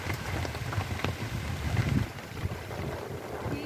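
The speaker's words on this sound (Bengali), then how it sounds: "এই যে দেখো কি পরিমাণ বৃষ্টি হচ্ছে বাইরে।" Heavy rain pours steadily outside a roadside shelter, a dense, continuous wash of hiss and patter with gusty rumble underneath, close and fairly loud throughout with no voices.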